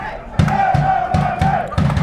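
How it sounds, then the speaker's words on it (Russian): Football fans in a stadium chant loudly and rhythmically, with regular bursts of massed voices and claps roughly every third of a second under a sustained roar. "Очень молодцы болельщики, очень так громко поддерживают."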